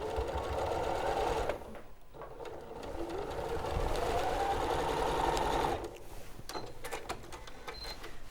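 A sewing machine runs in steady bursts while stitching down a cushion seam, with a short pause near the start and a change of pace toward the end; no one speaks over it.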